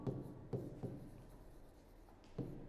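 Quiet, close scratching of a pen or marker writing by hand, with a few sharp strokes among soft continuous rubbing during an electronics lesson.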